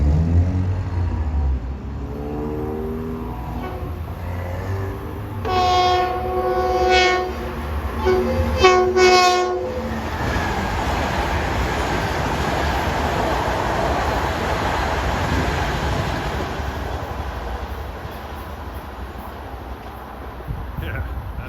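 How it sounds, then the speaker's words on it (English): An LIRR commuter train, number 1062 from Grand Central to Ronkonkoma, approaches eastbound at Westbury on triple track, sounding several loud horn blasts before the rolling rumble of wheels on rails takes over, with someone talking briefly. "Approaching eastbound at 623 is train 1062, Grand Central to Ronkonkoma"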